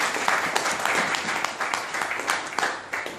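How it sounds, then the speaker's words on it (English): Audience at a mind power seminar at an education expo breaks into steady, dense applause from many hands, sustained at an even level throughout without a break. "Let's give them a big round of applause"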